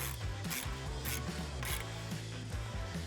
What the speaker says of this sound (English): Then we're gonna go ahead and tighten these down.